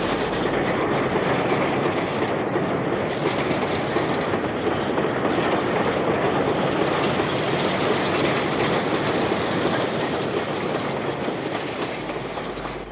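A BR 9F steam locomotive hauls a long goods train of 36 covered vans northbound near Newton-le-Willows, a steady loud rumble of rolling wagons and exhaust continuing for the whole stretch, fading slightly at the end.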